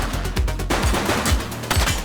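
Gunfire in The Precinct, a police video game, cracks out in rapid bursts, loud and close, with several sharp shots packed into two seconds and no talk.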